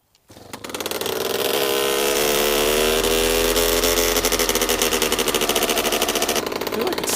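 A paramotor engine with a newly welded exhaust fires up after a brief crank and settles into a loud, steady, close running drone with a buzzy pulse that lasts to the end.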